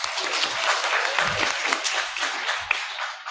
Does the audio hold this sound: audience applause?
yes